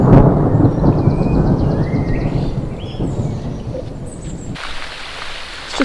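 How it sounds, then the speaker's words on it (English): Rain pours steadily during a storm, heard aboard a narrowboat, while a deep roll of thunder rumbles through, loud and close, fading as the downpour continues alone. "It's just started raining again"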